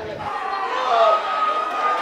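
A small crowd of about a hundred wrestling fans at an APW Gym Wars Friday night show in a gym, voices merging into a steady close murmur with rising shouts and cheers.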